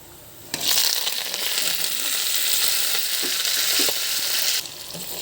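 Curry leaves, onion and mint hit hot oil in a pan for a fish and tender tamarind leaf curry, bursting into a loud, steady sizzle that holds for about four seconds, then drops off sharply.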